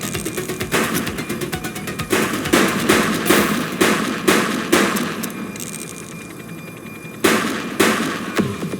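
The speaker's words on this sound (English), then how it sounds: "Shooting!" Gunfire in the police video game The Precinct: a series of sharp, loud shots in bursts and single cracks, spaced across the clip with brief pauses, over a steady background of game ambience.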